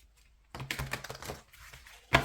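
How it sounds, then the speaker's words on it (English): Tarot cards are shuffled by hand in a quick run of crisp riffling clicks, followed by a brief pause and a single sharp slap of the deck close to the microphone. "just one more shuffle"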